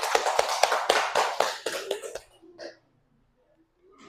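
A short round of applause for a presenting student group in a classroom, quick claps rattling for about two seconds and then stopping abruptly, followed by near silence.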